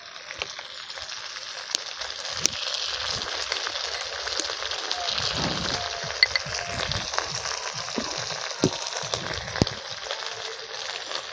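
Cut potatoes fry in hot oil for a fish curry, giving a steady, dense sizzle that holds throughout with occasional small pops and clicks, close and alone without talk.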